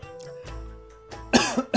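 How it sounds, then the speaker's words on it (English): Close, loud coughing near the end: a sharp burst followed by two smaller coughs, after a stretch of quieter background sound. "I'm coughing again."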